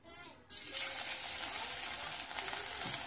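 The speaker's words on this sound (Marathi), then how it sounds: "आता ह्या तेलात आपल्याला भजी सोडायचं आहे" Onion bhaji batter dropped into hot oil sets off a sudden loud, steady sizzle that holds and bubbles on after a quiet start.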